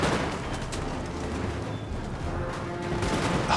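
Musket volleys from Young Guard infantry in the video game Napoleon: Total War crackle and rumble as a dense, continuous wash of distant massed gunfire.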